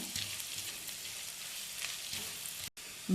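Ginger, garlic and shallots frying in a pan for a crab roast made with ground green pepper, giving a steady close sizzle with faint stirring sounds throughout.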